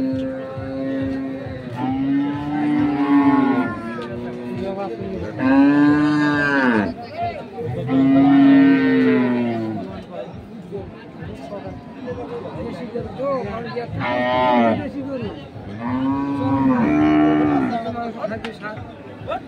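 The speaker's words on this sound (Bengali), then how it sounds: "আমরা আজকে দেখাচ্ছি আপনাদের দিনাজপুর জেলার আমবাড়ি হাটে যে গাভী গরুগুলো রয়েছে" Dairy cows mooing at the Ambari cattle market in Dinajpur district: several long, loud, drawn-out moos come close together against a steady background of crowd murmur.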